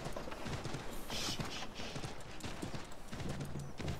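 Horse hooves clip-clop steadily as a rider gallops in Assassin's Creed III, a continuous rhythmic beat under a game soundscape, with faint voices present.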